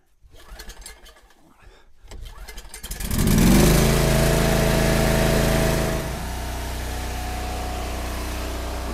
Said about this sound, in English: I'll see if I can't get it started with a pull starter, with a pull cord